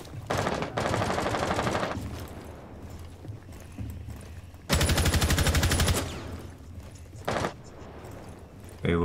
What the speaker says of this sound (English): You see some heavy gunfire